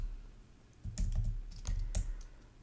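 Keys clatter on a computer keyboard in a quick irregular burst of close taps over a steady low hum.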